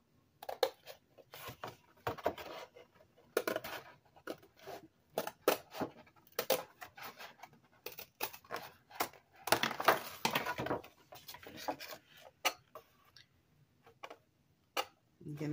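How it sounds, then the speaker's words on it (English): Scissors or a blade cut along the creases of cardboard box flaps, giving irregular close snips and crunches with pauses, while someone talks at intervals. "So we're just going to cut these along the crease as well."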